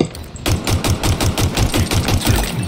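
Rapid automatic gunfire from the video game Halo Infinite, a loud, steady stream of evenly spaced shots rattling on for several seconds after a brief quiet start.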